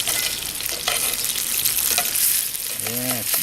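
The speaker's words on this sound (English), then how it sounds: "I'll get these browned up and then I'll get back with you" Food sizzles and fries steadily in a cast iron pan on a StoveTec stove, a continuous crackling hiss heard up close with a brief tonal squeak near the end.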